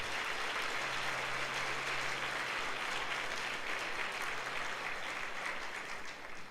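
A church congregation at a Sunday service applauds in a dense, sustained wash of clapping, fairly even and moderately distant, with a faint low hum running beneath for part of it.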